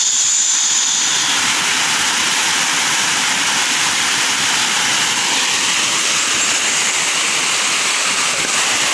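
Waterfall at Dapingan Falls, a loud, continuous broadband rush of falling water filling the whole stretch at close range, no talking.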